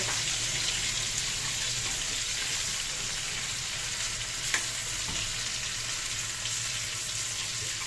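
Onions frying in a pan hiss in a steady, close, continuous sizzle with faint stirring scrapes and no voices.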